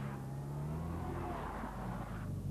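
Mini cars at an auto testing event, racing against the clock between bollards, produce a continuous engine drone that rises in pitch as one accelerates past at moderate distance.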